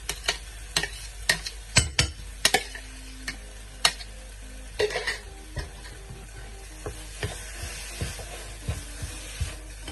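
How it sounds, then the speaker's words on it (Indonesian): Chili, shallot, garlic, ginger and galangal paste sautéing in a pan for chili crab, with scattered stirring scrapes and clicks over a low steady sizzle, close and moderately quiet. "Tumis sebentar."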